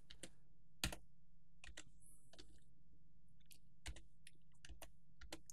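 Keys on a computer keyboard clatter in quick irregular bursts as a password and characters are typed in, a few sharper strokes standing out, all quiet and close over a faint low hum.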